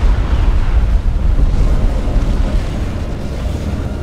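A massive Colossus experimental unit explodes in Supreme Commander 2, a loud sustained rumbling roar of debris and blast noise that slowly eases in intensity.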